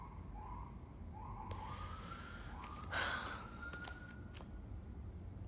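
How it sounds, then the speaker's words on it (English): A wailing emergency vehicle siren passes outside, faint and distant, rising and falling in sweeping tones over a steady background hiss, with a short close breathy sound partway through. "Sorry, the siren's loud."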